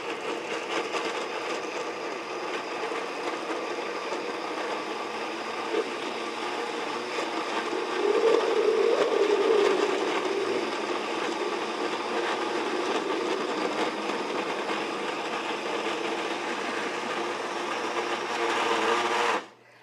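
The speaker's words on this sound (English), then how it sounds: "Just to fill up my blender. And then I'm going to, again, turn it on." A blender blending vegetables gives a steady, loud motorized whir that runs continuously for nearly twenty seconds, briefly rising in pitch midway before cutting off abruptly at the end.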